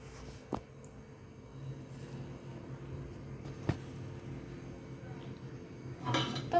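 A cake tin is set onto a stand inside a pressure cooker layered with salt, producing a few faint, separate metallic knocks and clinks in an otherwise quiet kitchen.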